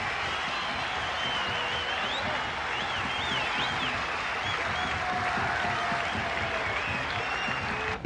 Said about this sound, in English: Acknowledging the applause from the